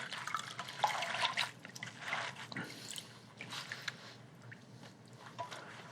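Water drains and drips off blanched mustard greens, a faint, uneven trickle with small splashes and patters coming in bursts, close by and without talk.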